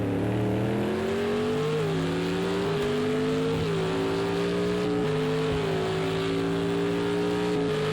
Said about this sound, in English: Sjord and Subs now overtaking that LMP2 car for overall position.